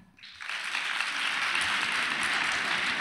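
A studio audience breaks into applause after a short quiet start, the clapping swelling quickly into a sustained, even roar of many hands that holds steady to the end.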